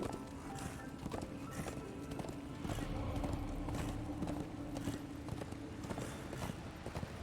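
Horse hooves clip-clop in a steady, rapid rhythm as the mount moves through the Darksiders 2 video game, fairly close and continuous, with faint mechanical game sounds beneath.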